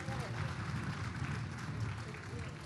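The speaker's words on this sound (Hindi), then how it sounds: "दोनों हाथ उठा के एक बार तालियां दीजिए।" Audience applause at a Sahitya AajTak literary event in Lucknow: steady, dense clapping from a large crowd, continuous and even for the whole stretch, a little distant, no voices on top.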